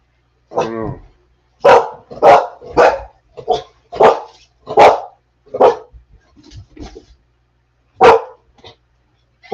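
A pet dog barks excitedly indoors in a rapid, loud series of about a dozen close barks, with a couple of short pauses and a brief whine at the start.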